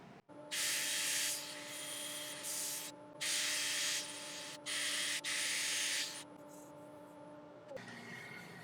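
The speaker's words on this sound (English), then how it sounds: "I'll get this sanded and I'll take you back when we're ready to move on to the next stage." A large elm wood turning is sanded on a lathe, giving several loud, hissing bursts of abrasive rubbing over a steady motor hum, separated by brief pauses before the machine winds down.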